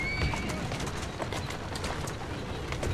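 A horse in the video game Assassin's Creed Syndicate trots with steady clip-clopping hooves and snorts, whinnying over the running gait, loud and close throughout.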